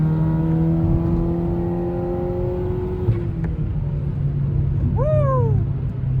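An Audi S4 engine revs with a falling, sustained harmonic tone that drops off midway, followed by rising and falling whooping tones near the end over steady loud rumble.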